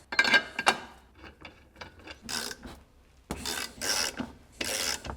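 Bushings being pressed and worked out of aluminium upper wishbones on a BMW E46 330i, heard as close, loud bursts of rasping, grinding metal and creaking separated by short quieter pauses.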